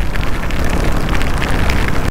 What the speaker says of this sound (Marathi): आला पाऊस झाला, सुरुवात झाली, जोरदार सुरुवात झाली.